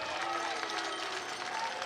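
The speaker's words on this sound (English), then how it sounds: "a nice round of applause as you look behind the Lake Monster dugout as Berger comes off the mound" Baseball crowd at a championship game in Nashua, New Hampshire, applauding a pitcher as he leaves the mound, a steady wash of clapping and cheering from the stands that holds for about two seconds with no break.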